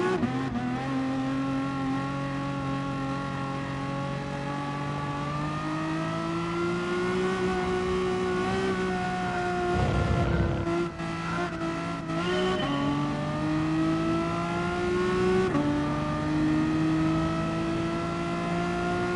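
Race car engines roar during a five-lap race in the video game GT Sport. A steady, close engine drone climbs and drops in pitch through gear changes, with a brief rougher burst midway.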